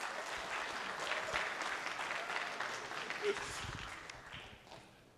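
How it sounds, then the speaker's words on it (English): Applause breaks out from a convention audience at a pony fan gathering, strong at first and gradually thinning, with scattered louder claps and faint crowd murmur and voices beneath. "Give applause."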